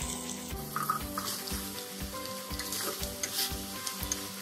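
Zucchini dropped into onion and chili frying in oil: a steady close sizzle with rhythmic scraping and stirring knocks throughout, no voices.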